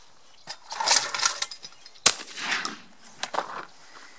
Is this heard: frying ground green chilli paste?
no